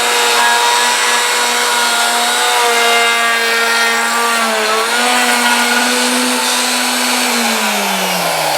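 A power tool whines steadily through a test cutting pass in plastic during a one-piece guitar build, loud and close, with its pitch dipping and rising midway before tapering near the end; no talk.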